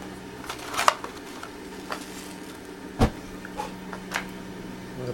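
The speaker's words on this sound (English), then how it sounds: "You can hear the propane there." Propane gas hisses steadily through a 1.25-inch brass joe pipe fitted with a horn swirl device, burning on a low setting. The flow gives a constant low hum and hiss, broken by a few sharp clicks and taps.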